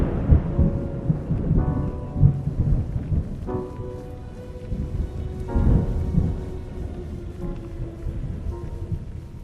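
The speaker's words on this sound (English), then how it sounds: "Then another loud roar of thunder filled the air." Thunder rolls and rumbles through steady rain in a storm, with deep swelling roars that rise and fade several times over a constant hiss of falling water.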